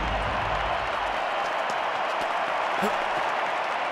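Stadium crowd applause in the London 2012 Olympic Games video game, a dense broadband roar of clapping and cheering that stays fairly level throughout, with a commentator's voice briefly over it at the start.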